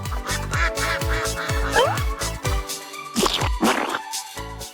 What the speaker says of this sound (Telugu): ఇవి బాతులు.